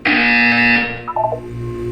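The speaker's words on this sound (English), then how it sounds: "You will hear a buzzer." A loud, harsh electronic buzzer from the Portal 2 video game blares steadily for under a second, then cuts off into a short falling electronic tone and a low hum.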